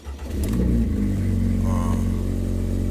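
Alpine A110S sports car engine revving, a loud sustained growl rising then holding steady with deep bass and whistling upper tones, close by.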